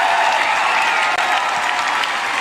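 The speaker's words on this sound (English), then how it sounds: "You see people cheering" A political rally crowd in a high school gymnasium applauds and cheers in a dense, loud, steady wash of clapping that barely dips for a moment.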